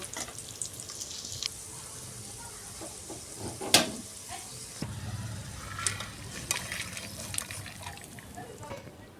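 Raisins sizzle and crackle in hot oil for homemade fried rice, a steady close frying hiss with occasional stirring clatter and one sharp clink partway through.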